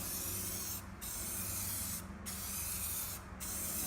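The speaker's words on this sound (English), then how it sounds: "And I'm letting go of the trigger as I finish, and I'm painting about 2 or 3 inches over the edge" A spray paint gun hisses steadily onto wooden shutters in three long, close passes, each broken by a brief drop as the trigger is released.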